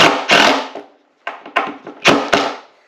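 Screws are driven and countersunk into wooden shutter boards for a barndominium, with several short bursts of a power drill, two longer runs followed by a cluster of quick pulses, close and loud, with no speech.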